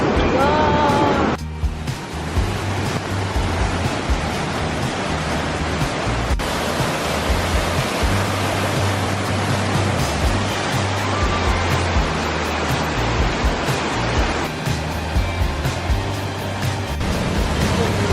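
Shifen Waterfall roars in a steady, loud, broadband rush of falling water and spray, heard up close and continuous throughout with no other sounds standing out.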